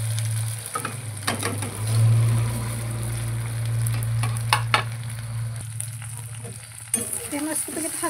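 Leftover idli pieces fry with turmeric in a pan, a steady sizzle running throughout with scattered scraping and stirring knocks, close and moderately loud, no talk.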